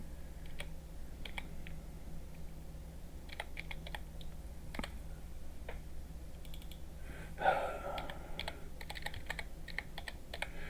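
Quiet, scattered keystrokes on a computer keyboard, with soft clicks in irregular bursts, one slightly louder clatter partway through and a faint low hum underneath.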